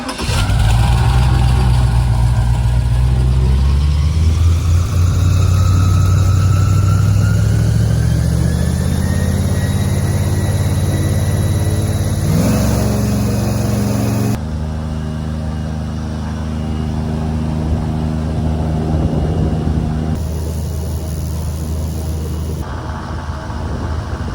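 Boat engine arriving at an island in the Everglades, a loud steady motor rumble that rises and shifts pitch as it nears, then settles into idling, with brief louder changes near the end.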